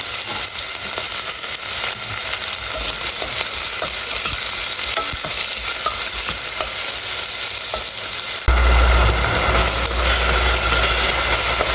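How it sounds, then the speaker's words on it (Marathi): Onion frying and being stirred in a pan with dry curry leaves and bay leaves, a steady loud sizzle with scraping stirs throughout, growing hotter and louder toward the end. "कांदा छान परतून घ्यायचा आहे आपल्याला गुलाबी कलर येईपर्यंत"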